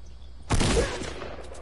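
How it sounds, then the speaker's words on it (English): A single loud gunshot in a PS4 video game, fired at a tree, bursts out sharply and rings with a broad noisy tail that fades over about a second. "Why are you shooting the tree, bro?"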